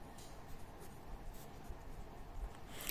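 Pen scratching steadily on paper while a maths equation is written out, a close, soft, continuous scribbling with faint rubbing for a few seconds.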